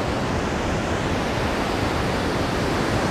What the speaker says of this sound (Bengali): এখানে জল বয়ে চলে